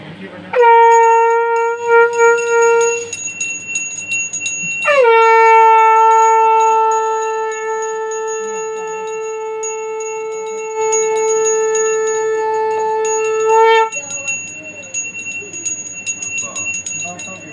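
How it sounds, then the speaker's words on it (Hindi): A small metal hand bell rung during a Satyanarayan puja, struck in three separate bouts with long ringing sustains, close and loud, with a voice speaking briefly between the rings. "घंटी बजा दी बेटा ठीक है।"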